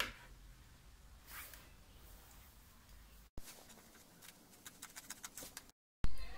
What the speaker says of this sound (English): we're going to use this blue fabric to cut out the pattern